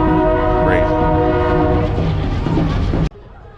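A train sounds its horn with a loud, sustained blast over the rumble of rail cars as it passes during a parade at the Amite Oyster Festival in Louisiana. The horn and rumble cut off abruptly near the end.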